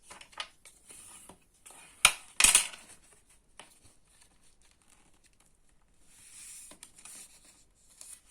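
Paper being creased and scored along fold lines while making a handmade album cover, heard as quiet scratchy strokes and crinkles with a couple of sharper, louder rustles partway through and softer scraping near the end.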